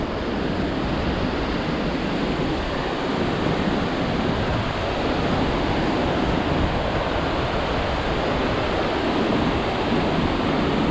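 Compression Falls, a constant roaring waterfall, heard as a dense, steady rush of water with gusting wind and mist, loud and close and without a break throughout.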